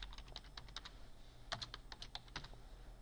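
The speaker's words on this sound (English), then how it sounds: "I'm going to type in," Quick, light keystrokes on a computer keyboard, typed in short irregular bursts at close range with no talking.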